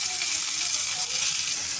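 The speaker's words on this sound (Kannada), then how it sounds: "ಟೊಮೊಟೊ ಈ ಥರ ಅರ್ಧ ಫ್ರೈ ಆದಮೇಲೆ ಉರಿ ಸಣ್ಣ ಮಾಡ್ಕೊಳ್ಳಿ" Tomatoes fry in a pan, a loud close and steady sizzling hiss that runs unbroken throughout with no speech.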